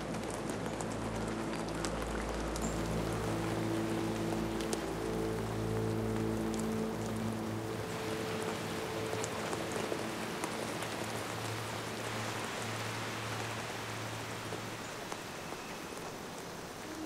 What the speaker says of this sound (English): When the rain stopped